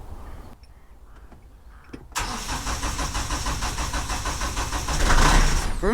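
A narrow boat engine cranks and catches after a quiet pause, settling into a steady, loud mechanical running drone that swells slightly toward the end.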